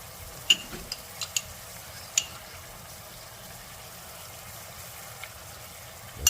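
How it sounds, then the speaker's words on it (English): A thickening Chinese sauce is stirred slowly in a pan over high heat, giving a quiet bubbling simmer with a few soft clinks and scrapes near the start and a louder scrape at the very end. "Slowly, gently stir."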